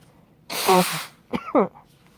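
A single close sneeze, a sharp breathy burst followed a moment later by a shorter, voiced catch of breath, with quiet room tone around it.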